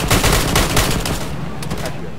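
Rapid bursts of automatic gunfire in the military shooter Arma 3, loud and dense at first, then thinning to a few sharp shots near the end.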